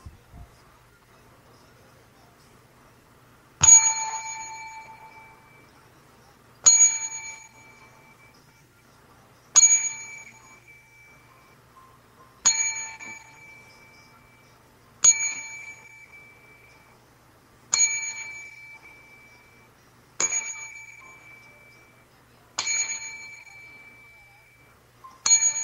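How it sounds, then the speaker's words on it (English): A ten bell salute rings out as a series of evenly spaced single bell strikes, each a clear bright ding that decays slowly before the next, loud and alone over near silence. "We hit him with the 10 bell"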